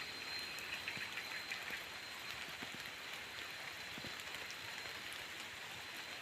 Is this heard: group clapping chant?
no